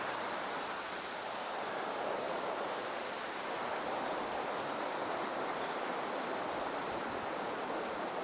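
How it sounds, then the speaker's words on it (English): A river flows through a misty Scottish Highland glen, giving a steady, broad rushing wash that holds even and unbroken throughout with no voices. "We're just going backwards and forwards over the glen, over this river."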